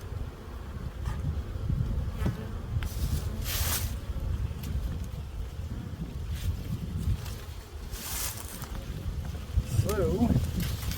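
Honeybees buzz around frames lifted from a hive in spring, a steady close insect drone with wind rustle and handling noise, while a person talks over it.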